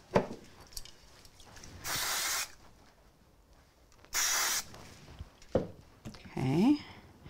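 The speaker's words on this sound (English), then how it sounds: "I'm going to use some spray glue on it." Spray glue hissing from an aerosol can in short bursts onto craft material, two distinct sprays of about half a second each, close and crisp amid quiet handling sounds and brief talk.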